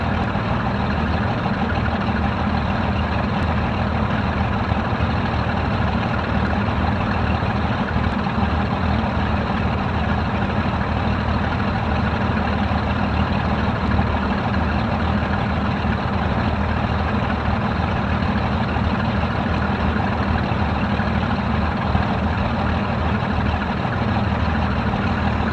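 A Morava L200 twin-engine light aircraft sits on the runway before takeoff with its engines running, giving a loud, constant drone that holds steady throughout with no talk.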